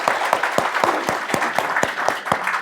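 An audience at a Korean book concert applauds, a steady burst of close, sharp claps with crisp individual hits throughout, no talk over it.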